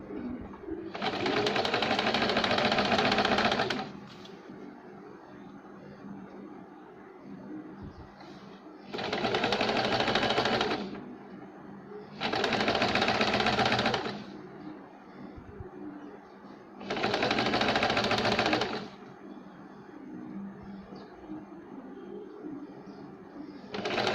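Sewing machine stitching a cross strip on a cold sleeve in four separate loud runs of steady whirring, each a few seconds long, with quiet pauses between them.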